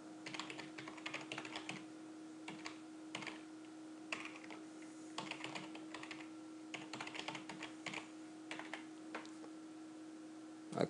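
Password being typed on a computer keyboard, a quiet steady patter of key presses over a low constant hum, no voices.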